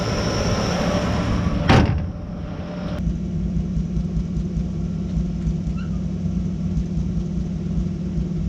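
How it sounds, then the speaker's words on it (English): The hood of a 1957 Chevy slams shut with a single loud, sharp bang close by, over the steady low rumble of the idling engine. "let's go ahead and shut the hood and hop in."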